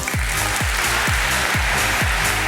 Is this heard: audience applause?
yes